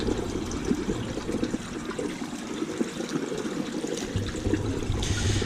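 Water trickles into a one-gallon pot set up as a wicking bed in an aquaponics system, a steady close-up dribbling and splashing that runs the whole time with no talk over it.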